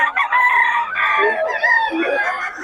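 A Pumpkin Sweater gamefowl rooster crows loudly and close by in one drawn-out, wavering cock-a-doodle-doo that fills the short clip.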